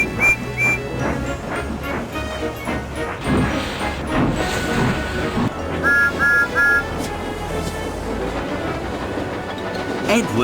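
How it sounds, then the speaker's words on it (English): A steam train whistle in the Trainz game toots in short repeated blasts over rumbling, clattering rail noise and background music. "Then Gordon whistled as he approached the station. Everyone knew that sound."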